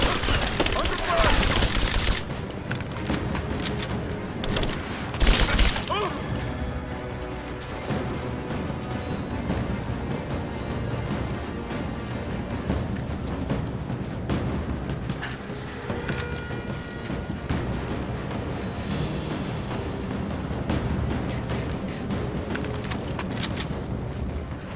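Rise of the Tomb Raider combat gunfire, with a burst of loud shots and crashes near the start, then scattered, fainter shots beneath a busy game soundscape and some talk.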